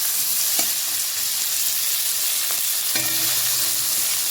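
Fish fries in a pan with melted tomato, turmeric and chilli, giving a steady, dense, close sizzle that holds evenly throughout, with a faint low hum joining near the end.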